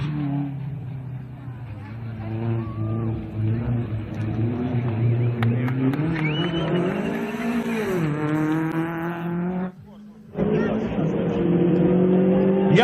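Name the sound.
Dacia 1320 hatchback car engine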